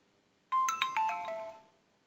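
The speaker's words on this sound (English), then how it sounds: "That sound was my phone notifying me that a new order has been received on my handheld." An Android handheld phone chimes a notification for a new dispatch order, a single bright melodic tone sequence of several rising notes lasting about a second, clear and close in a quiet room.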